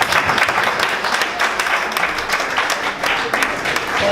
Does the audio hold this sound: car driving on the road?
no